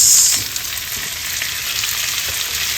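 Tomatoes hit a hot frying pan of sizzling onions, a loud burst of frying at the start that settles into a steady, close hiss and crackle with no talking.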